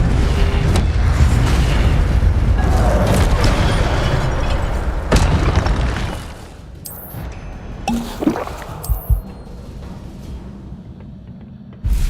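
Incendio fire spell cast in Hogwarts Legacy on PC, a loud roaring whoosh and boom of flames that fills the first half, then settling into quieter crackles and a few sharp magical bursts.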